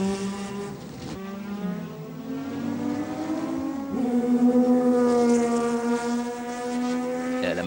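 A Kudzu Mazda race car leaves the pits at the 1995 Le Mans 24 Hours, its engine droning loud and close, pitch climbing, dipping at a shift, then rising again in a steady strained tone.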